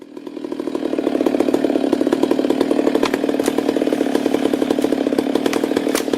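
A loud chainsaw bites steadily into a giant tree being felled, its engine holding a strong, even buzz with a rapid rattling chatter throughout, close and alone.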